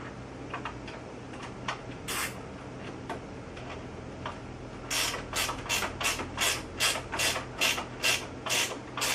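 An Allen wrench turns a bolt on a Pilates reformer during assembly, giving rhythmic ratchet-like clicks, sparse at first, then a faster, louder regular series close up.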